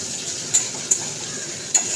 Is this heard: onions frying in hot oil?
yes